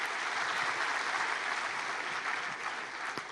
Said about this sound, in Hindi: बेटा, बहुत अच्छा प्रश्न किया आपने, तालियां बजाएं इस प्रश्न पे